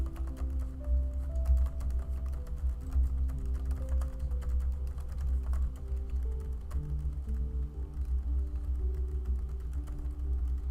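Rapid, irregular clatter of keys on a computer keyboard runs steadily and close, with no voices.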